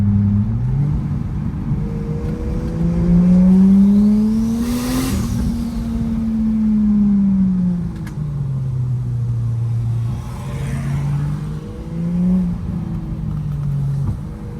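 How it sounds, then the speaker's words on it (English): A turbocharged Lexus GS300 sports sedan, about twenty years old, is driven on a back road, its engine loud and close as it revs up and down repeatedly through shifts, with no talk. "Let's see how the 20-year-old Lexus GS Sports Sedan handles."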